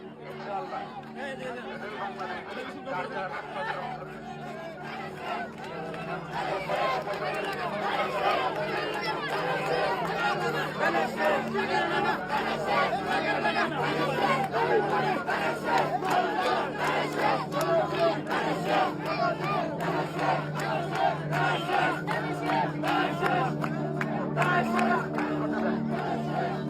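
A large crowd of marchers chants and shouts in a street procession, a dense roar of voices that swells after a few seconds and stays loud and continuous, with rhythmic chanting and chatter throughout.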